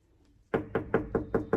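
Five firm knocks on a hotel room door, evenly spaced and close, each a sharp wooden rap, following a brief quiet moment.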